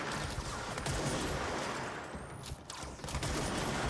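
Gunfire in the action game Control, a dense, continuous barrage of shots and impacts that holds at a steady, loud level throughout, with no voices.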